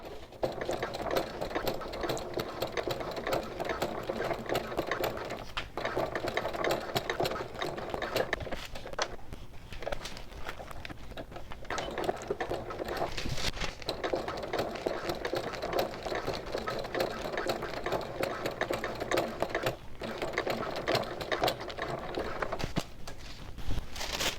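Sewing machine stitching fabric for a small bag with a boxed bottom, a fast continuous mechanical chatter running nearly throughout with a few brief pauses, heard close up.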